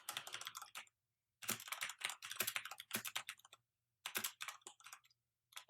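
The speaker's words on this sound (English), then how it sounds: "I'm just typing the most basic text ever without any fancy edits" Plain text is typed on a computer keyboard in quick, close bursts of crisp key clicks, separated by short silent pauses.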